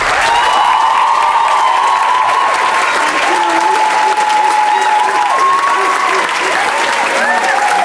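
Audience applause fills the House of Commons chamber at a UK Youth Parliament sitting after a speech, loud dense clapping that runs steadily throughout, with a crowd murmur beneath it.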